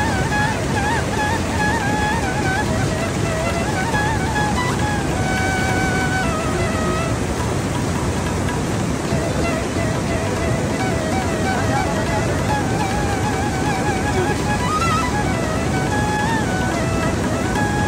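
Floodwater waves surge and wash in a loud, continuous roar, mixed with wind buffeting the microphone and a faint engine-like drone underneath, with no break across the whole stretch.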